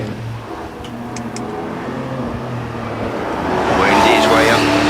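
A Porsche Cayman GT4 climbs the Shelsley Walsh hillclimb, its engine revving in short bursts between gear changes and swelling louder toward the end, while a commentator talks throughout.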